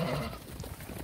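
Hissar lambs bleat faintly at a farm pen, a few soft, overlapping calls over low background noise.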